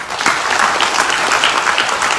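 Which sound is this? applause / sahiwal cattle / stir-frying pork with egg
applause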